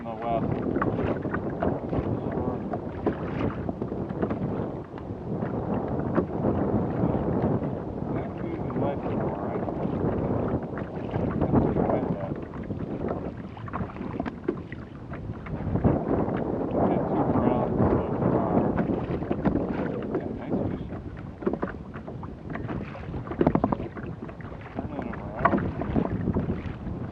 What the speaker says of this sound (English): the wind switched from off the lake to offshore